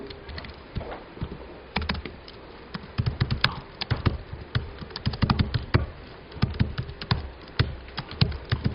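Fast, uneven keystrokes on a computer keyboard while writing Go code, bursts of sharp taps with short pauses, close and clear with no voices.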